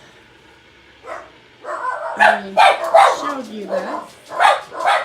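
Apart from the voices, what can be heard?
neighbor's dog barking outside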